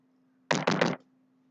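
Three quick, firm knocks on a door, loud and close, in a tight cluster against a quiet room with a faint steady hum.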